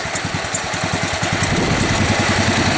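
C-81 garden tractor engine idling close by, its single cylinder chugging in a fast, even pulse with a slightly uneven, loping beat throughout.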